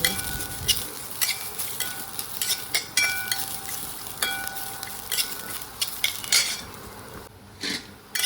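Sesame seeds and spice masala dry-roast in a pan for a village-style spicy drumstick pod curry, with a spatula scraping and stirring in quick, uneven strokes and a soft, crackling toasting hiss underneath.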